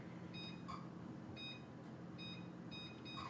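A kitchen timer emits short electronic beeps in several separate bursts as it is set for a homemade Alfredo and breadsticks session, clear over a steady background hum.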